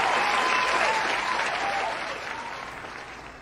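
A crowd breaks into applause, dense and full at first, then gradually thinning and fading over a few seconds.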